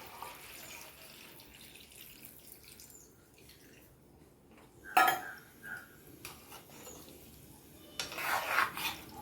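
Second coconut milk poured into a simmering chicken stew, a few short splashy liquid bursts against a quiet kitchen background with no talking.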